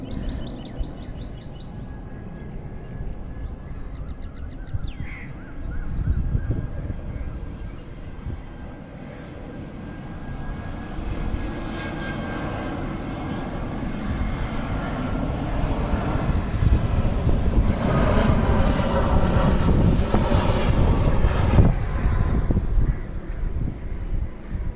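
A plane landing at Karippur airport, heard from outside as a broad jet roar that swells gradually over about twenty-five seconds amid wind and a few sharp background clicks.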